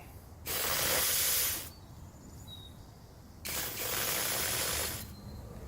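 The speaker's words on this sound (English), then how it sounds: "I hooked it up to a can of brake clean. See if it'll clean out this nozzle." Two long bursts of pressurized brake cleaner hissing from a spray nozzle, each lasting about a second, separated by a quieter pause with faint background hum.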